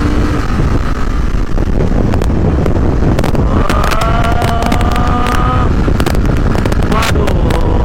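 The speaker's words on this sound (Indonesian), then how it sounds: "Suaranya juga adem banget nih, standarnya." A BMW F900R motorcycle with its stock exhaust hums steadily at riding speed on a wet road. The engine note is fairly soft and rises a little partway through, under heavy, constant wind rush and with brief talking.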